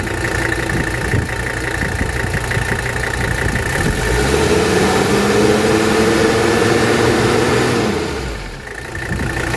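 A 1983 Mercedes 300D diesel engine in excellent condition runs close by at a steady idle, a continuous loud rumble with a brief rise in revs midway before settling back.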